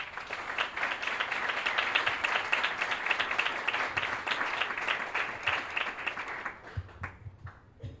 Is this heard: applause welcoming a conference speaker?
yes